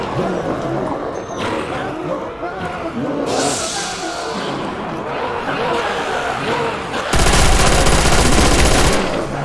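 An MG machine gun fires in World at War Zombies, with bursts of rapid automatic shots mixed with game noise and a louder stretch near the end, while someone talks over much of it.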